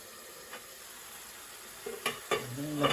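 Garlic chilli chicken jalfrezi sizzling in a covered pan: a soft steady frying hiss with a few sharper pops and stirring clatters toward the end, close and fairly quiet.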